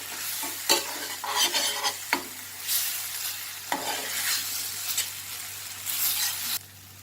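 Chillies cooking with tomatoes in a pan, a bright sizzle broken by several sharp stirring scrapes and taps of a spoon, heard close with no voices.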